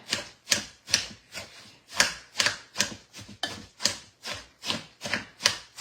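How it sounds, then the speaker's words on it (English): Apples being finely chopped by hand for crockpot apple butter give about fourteen crisp knife strikes on a board, close and in a steady, quick rhythm, with no talking. "So this is really finely chopping them good"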